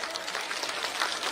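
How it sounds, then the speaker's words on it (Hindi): A crowd at a BJP political rally claps to welcome a speaker, a brief, steady wash of applause from many hands at moderate distance. "एक बार जोरदार ताली से बहने स्वागत करें।"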